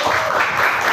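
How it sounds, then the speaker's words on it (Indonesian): Brief burst of audience applause in a classroom-style religious lesson, dense clapping heard alone and fairly close for under a second. "Kita berikan aplaus."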